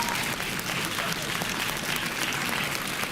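Quiz-show audience applauding steadily after a correct answer, dense and close for the whole stretch, with some voices faintly mixed in.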